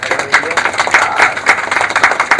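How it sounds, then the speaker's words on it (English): Audience at a business chamber interactive session applauds, a steady patter of many hands clapping fairly close and loud, with a voice mixed in underneath. "round of applause for her."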